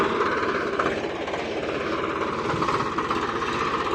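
A tractor runs steadily in a field during sowing of mustard and gram seeds, a loud, close, continuous diesel chug and rattle with no pauses.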